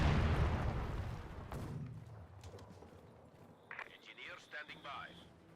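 An artillery barrage in Company of Heroes 2 opens with a loud, rumbling blast that slowly decays, followed by fainter scattered impacts and crackles, with voices heard later.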